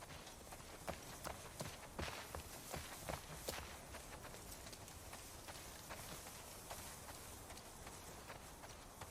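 Horse hooves walk across ground in The Last of Us Part II, soft irregular clops and footfalls over a faint rain-like background hiss, moderately near.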